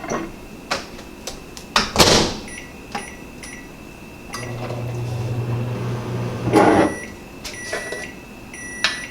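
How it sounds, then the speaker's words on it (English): A microwave oven heating a fall treat: a door clunk and beeps, then a low steady hum for about two seconds before more beeps and clatter. "Now I'm going to heat these up in the microwave."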